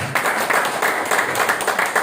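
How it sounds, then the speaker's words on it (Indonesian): Applause from a seminar audience, a thick continuous patter of many hands clapping, loud and near, swelling in a few uneven surges over two seconds. "Tepuk tangan untuk Bapak Ibu"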